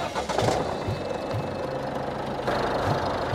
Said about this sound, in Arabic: يلا ديماري ديماري موتور